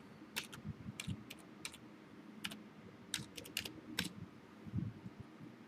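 Computer keyboard keys tapped in short bursts of clicks while typing a username during Windows 8 Enterprise setup, close and fairly quiet, with pauses between clusters.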